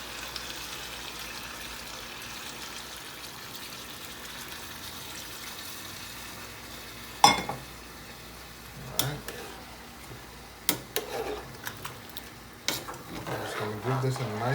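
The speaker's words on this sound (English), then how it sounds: "Give this a nice little stir." A spoon stirs a pot of Jamaican oxtail pot roast with butter and hot water, giving sporadic clanks and scrapes against the pot after a quiet opening, growing busier toward the end.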